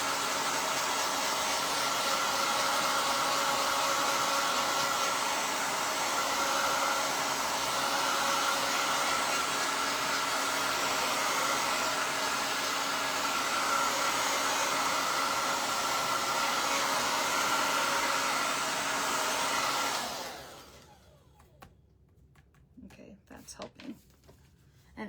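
A hair dryer blowing on a fake cake decoration, a loud steady whir that runs continuously for about twenty seconds before cutting off, followed by a few quiet handling clicks.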